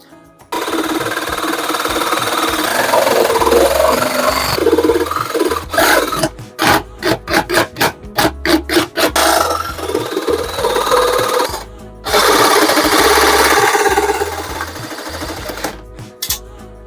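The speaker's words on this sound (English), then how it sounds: "it's a very unnatural thing to do, force the jigsaw around like that." A jigsaw cuts through a mold ahead of epoxy work, its loud buzzing rasp running nearly throughout, broken by a few short stops and bursts of stuttering starts before the blade settles back into steady cutting.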